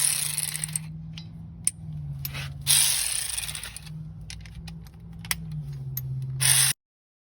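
Ratchet working a 14 mm socket on the parking brake bolts of a Nissan, quick bursts of clicking near and clear over a low hum, pausing now and then before stopping abruptly.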